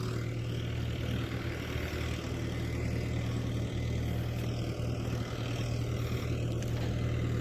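A continuous low engine drone of a tractor levelling farmland, steady and unbroken, with no voices.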